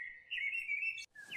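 A sparrow chirps close and clear, with one long bright tweet, a brief pause, then another call starting, against a quiet background.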